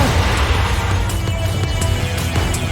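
Video game explosions in Clustertruck, a continuous loud booming rumble with repeated bursts and crackling over a heavy low-end roar, no voices.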